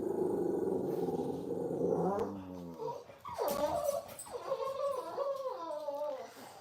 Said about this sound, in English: You get to hear all the commotion from my dogs.